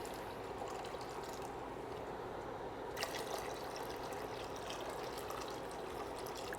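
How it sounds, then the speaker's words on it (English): Water pours over a split peas mixture in a pot for dhal, a steady, fairly faint splashing and trickling that runs throughout, with a small knock partway through and no talking. "we're going to cover or fully submerge our split peas mixture in water"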